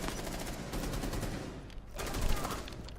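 Rapid automatic gunfire aimed at the operator Mute in Rainbow Six Siege, loud sustained bursts of machine-gun shots packed close together across the whole moment, with a brief lull midway before firing resumes.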